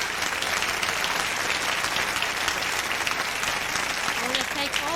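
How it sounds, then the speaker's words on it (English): A large crowd at a 1999 Chabad California telethon applauds steadily for Rebbitzin Miriam Cunin, a dense, continuous wash of clapping that holds at an even level throughout, with faint voices surfacing near the end. "Ladies and gentlemen, a round of applause for Rebbitzin Miriam Cunin,"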